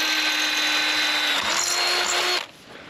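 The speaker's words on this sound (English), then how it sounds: "So I'm gonna continue to drill these holes just down a little bit" A power drill whines steadily at high speed, loud and close, drilling holes for a fire pit, then winds down and stops near the end.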